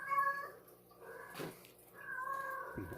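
Indoor house cats meow loudly, two drawn-out calls separated by a short pause, close to the microphone with no speech.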